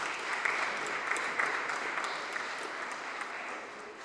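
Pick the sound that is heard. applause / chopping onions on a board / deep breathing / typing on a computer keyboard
applause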